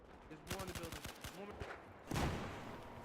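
Light machine gun tap-fire in Battlefield 4, a quick run of single shots and short bursts followed by a heavier blast, with game ambience behind it.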